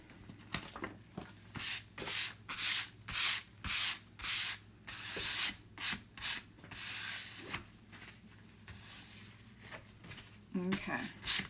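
Hand sanding a surface, rhythmic back-and-forth rasping strokes, about a dozen evenly paced loud passes close by, slowing toward the end, where a voice briefly speaks.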